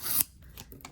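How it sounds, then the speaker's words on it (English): A nail file rasps glue residue off during eyelash extension removal, a short loud scraping burst followed by a few fainter strokes, close up with no talking. "this is when I get my nail filer"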